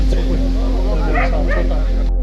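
Dogs at a national dog exhibition yip and bark in short bursts over steady hall hum, with people talking throughout.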